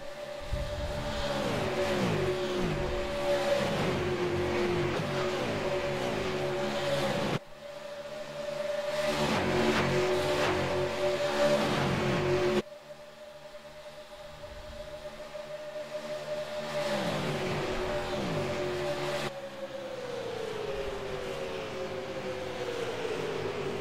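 Super late model stock cars race around Daytona, engines droning loudly at high revs as packs pass close by with rising and falling pitch, continuous throughout.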